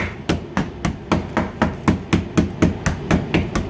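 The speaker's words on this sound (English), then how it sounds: "go find yourself a rust tapping hammer" A rust tapping hammer striking rusted sheet metal on a 1995 Ford F150 truck, about fifteen sharp close taps in a steady quick rhythm with no talking.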